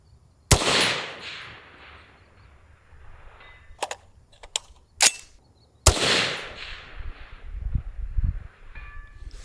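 Two loud, booming rifle shots from a Cheytac USA CT10 come several seconds apart, each with a rolling echo, and fainter mechanical clicks and clunks fall between them.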